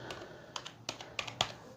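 A computer keyboard being typed on: a sparse series of separate clicks and taps, close and quiet, with short pauses between keystrokes and no voices.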